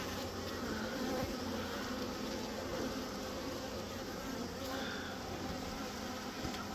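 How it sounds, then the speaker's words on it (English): A swarm of bees buzzes steadily and densely during a swarm rescue, a continuous close drone filling the whole stretch with no talk. "Man, they are showing up from everywhere. This swarm still isn't all here."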